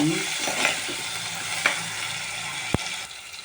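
Green chillies, curry leaves and shallots sautéing in a pan, a close steady sizzle with a few sharp stirring clicks and scrapes, no voices.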